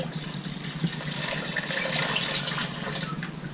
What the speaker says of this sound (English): Next, we want to add in the rest of the water.